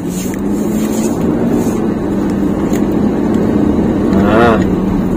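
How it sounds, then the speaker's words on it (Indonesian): Inside a 2021 Toyota Innova Reborn 2.4 diesel automatic, a steady engine drone fills the cabin while another car passes close by with a brief rising whoosh near the end. "mobil arogan mau lewat bos"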